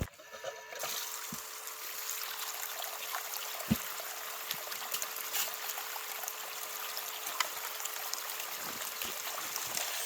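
Water runs steadily through a small gold sluice loaded with gravel, a continuous trickling stream with occasional faint splashes and clicks, moderately close and without talk.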